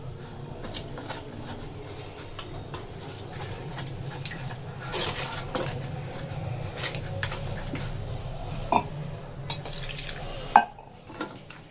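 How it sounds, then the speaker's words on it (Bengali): Gram flour batter and water being beaten by hand in a bowl, a steady soft stirring swish with scattered clinks of utensil against the vessel, fairly close and moderately quiet. "যতক্ষণ না বেসনটা বেশ হালকা মতো হচ্ছে ততক্ষণ কিন্তু এভাবে ফেটিয়ে যেতে"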